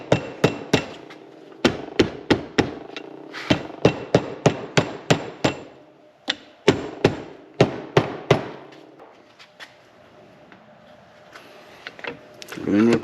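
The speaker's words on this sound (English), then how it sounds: "Just take the blunt end of the hammer." The blunt end of a hammer taps repeatedly on a Minn Kota Terrova steering housing assembly: sharp, close metallic knocks in quick bursts, with pauses between groups.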